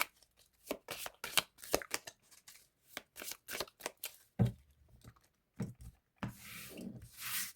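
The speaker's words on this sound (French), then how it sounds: "on va mélanger le jeu" A deck of playing cards shuffled up close, with repeated quick riffling bursts and soft slaps in an uneven rhythm, then a longer continuous riffle at the end, no talking.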